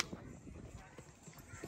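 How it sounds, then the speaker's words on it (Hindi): Marwari stallion of pure bloodline, seven years old and 62.5 inches tall, at the Sarangkheda horse fair, its hooves clip-clopping in a steady patter beneath continuous talking and crowd noise. "ये जो घोड़ा है मारवाड़ी और महाराष्ट्र के जलगांव से आया है"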